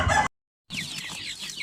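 Chickens and small chicks cluck and cheep close by in two short bursts split by a brief silence, the second burst busier with overlapping high peeps.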